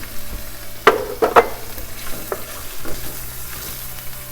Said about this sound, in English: the first thing I'm going to do is to fry a little bit of the cassava